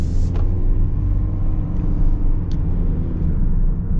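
Steady low road rumble and engine hum from a 2025 Toyota Prius XLE AWD hybrid car driving, a continuous smooth drone heard from inside the cabin with no talk.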